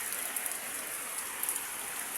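Heavy early-morning rain falling near rice paddies, a thick continuous patter and hiss of drops on surfaces, close and steady, with a few slightly louder splashes and no talking.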